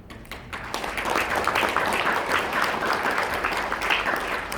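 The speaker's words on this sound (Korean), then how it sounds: "여러분 다시 한번 큰 박수 부탁드리겠습니다" Sustained audience applause at a ceremony marking the 70th anniversary of the Korea Association of Child Welfare, a steady dense clapping that fills the hall from start to finish with no talk over it.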